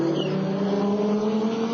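Number 2 Clerica GT race car at the 1999 FIA GT round at Homestead: a loud, steady, close engine roar holding a constant buzzing pitch for the whole short stretch.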